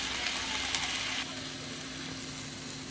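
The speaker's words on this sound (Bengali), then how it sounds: "ঝোলটা ফুটে আসছে" Water for a thin hilsa fish curry broth with potatoes and aubergine heats toward a boil, giving a steady close hiss and bubbling sizzle that eases slightly partway through.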